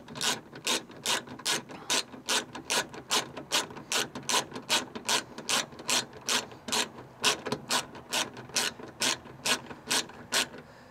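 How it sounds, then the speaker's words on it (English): A screw is ratcheted back in while an interior door handle is refitted on a 2016 Nissan Rogue, giving a long, steady run of close, crisp ratchet clicks at an even pace with no talk. "So we'll just go ahead and get the screw put back in place here."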